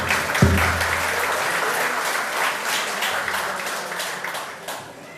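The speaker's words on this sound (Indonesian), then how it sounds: "Tepuk tangan untuk Pak Insan." Loud, sustained applause from an audience at a religious debate event, starting with a thump and continuing as dense clapping that slowly tapers off.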